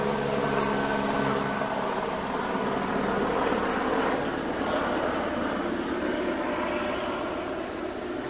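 An airplane passes overhead with a broad, steady roar that holds at an even level, distant but filling the background throughout with no voices.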